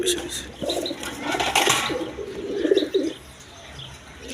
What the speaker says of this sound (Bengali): এখানে এক পেয়ার হলুদ গররা কবুতর আছে